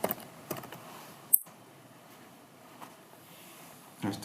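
Typing on a computer keyboard in a quiet room, with a few sparse, faint key taps and one sharper click midway, no talking.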